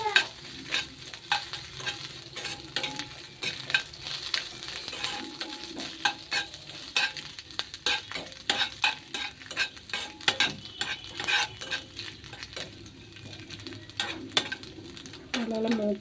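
Coconut pieces fry in oil in a pan for unniyappam, a steady close sizzle with frequent stirring scrapes and clinks of a utensil against the pan throughout.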